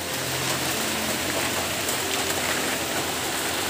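Heavy rain pours down in a dense, constant roar, loud and even throughout with no voices.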